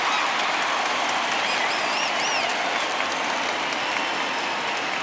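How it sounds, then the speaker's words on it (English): A home baseball crowd gives a departing pitcher a standing ovation, dense sustained applause and cheering that stays loud and even throughout, with a few whistles rising above the clapping. "this home crowd likely to give him a standing O as he departs with the shutout in check"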